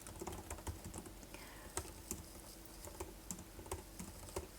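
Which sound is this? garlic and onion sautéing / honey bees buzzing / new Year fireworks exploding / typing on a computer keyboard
typing on a computer keyboard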